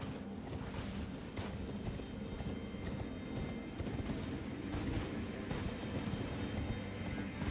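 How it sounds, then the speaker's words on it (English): Video-game horse hooves gallop at a quick, steady pace and a fairly even level, with no one speaking over them. "Without driving my horse off the cliff?"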